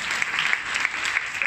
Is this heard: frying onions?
no